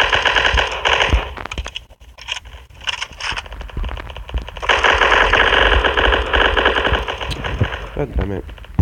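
Gunfire in the mobile shooter Block Strike: loud, rapid automatic bursts rattling on and off, a brief lull, then a long sustained volley, with a player talking over the shots.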